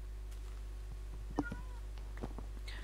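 A Minecraft cat gives a single short, faint meow over a steady low hum, with a few soft clicks around it.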